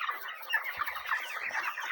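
27-day-old broiler chickens cluck and chirp constantly in a dense flock, a busy overlapping chatter close by with a few soft thumps.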